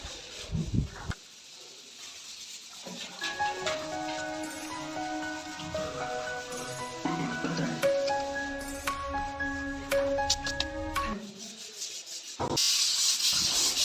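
Wall putty being smoothed with 220-grit sandpaper wrapped tight on a wooden sanding block: repeated close scraping strokes rub back and forth, with a faint tonal hum running underneath.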